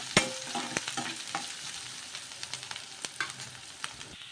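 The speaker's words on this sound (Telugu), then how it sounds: "ఇవన్నీ కూడా కొంచెం మగ్గించుకుందాము ఆయిల్లో." Chopped onion and green chilli sautéing in oil in a pan, with a soft steady sizzle broken by sharp clinks and scrapes of a spoon stirring, close and moderately loud, with no talking.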